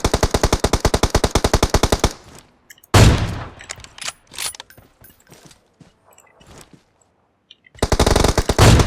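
Loud, close automatic gunfire in PUBG Mobile, a fast even burst of shots for two seconds, a heavier blast and scattered impacts, near silence, then another rapid burst at the end.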